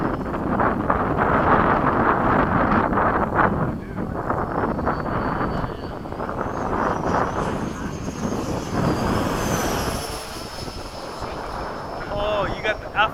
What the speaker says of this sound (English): Oh, you got the afterburner.